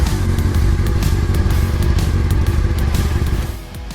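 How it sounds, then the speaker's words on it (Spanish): A BMW S 1000 RR sport motorcycle engine roars loudly and steadily up close for about three and a half seconds, its dense rumble easing off slightly at the end. "cada historia comienza con el rugido de un motor."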